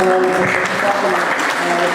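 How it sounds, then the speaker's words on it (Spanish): Audience applause filling an auditorium, a dense steady wash of clapping from many hands lasting throughout, with some voices mixed underneath. "quisiera un fuerte aplauso"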